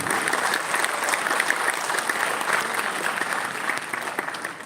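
A large audience at a corporate Founders Day celebration claps continuously, a thick even wash of hands throughout that tapers slightly at the very end, with no speech on top.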